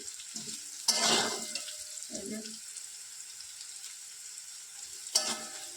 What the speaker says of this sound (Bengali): যে পেঁয়াজটা লাল লাল করে ভাজা হয়ে গেছে এই যে এরকম করে ভেজেছি